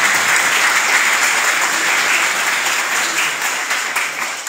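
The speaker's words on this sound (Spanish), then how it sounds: "Un aplauso." Sustained applause from an audience at a tribute ceremony honoring retired teachers, steady dense clapping lasting throughout and tapering slightly toward the end.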